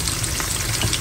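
Shrimp frying in a pan with chili, a steady dense sizzle throughout with faint stirring, close and continuous, no voices.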